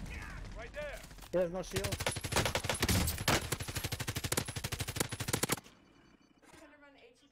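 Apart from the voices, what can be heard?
gunfire in the video game Call of Duty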